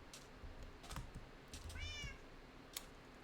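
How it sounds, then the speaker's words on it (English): A cat meows once in the Minecraft video game, a short rising-falling mew in the middle of faint keyboard typing clicks and low background noise, quiet overall. "We got a little kitty cat."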